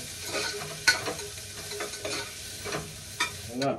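Onions sizzle in hot oil with popping mustard seeds, a busy crackling hiss punctuated by quick spatula scrapes and knocks against the pan.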